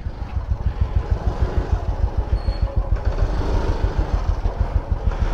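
A scooter engine runs at idle close by, a steady low throbbing putter with rapid regular pulses and faint mechanical clatter, no voices.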